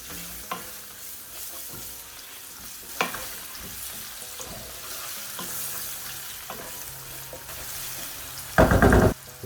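Onions frying in a pan for Durban-style South African lamb curry, a continuous close sizzle broken by irregular stirring knocks and scrapes, with a louder clatter near the end and no voices.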